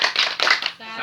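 A group claps the short Indonesian 'tepuk salut' rhythm, a few quick loud bursts of hand claps up close, then a voice carries on speaking as the clapping stops.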